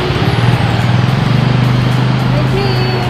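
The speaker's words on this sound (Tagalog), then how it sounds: "may jeep na, oh." A jeepney rumbles along a road nearby, a loud continuous diesel drone with steady low throb and some squeals of brakes or traffic, while people talk close by.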